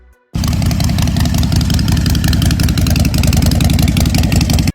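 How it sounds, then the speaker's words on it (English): A Harley-Davidson motorcycle engine starts up and then holds a loud, steady, rumbling growl at close range for several seconds, with no talking. "that unmistakable Harley growl"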